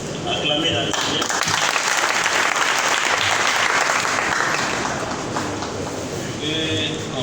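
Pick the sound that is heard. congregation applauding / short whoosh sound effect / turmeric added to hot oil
congregation applauding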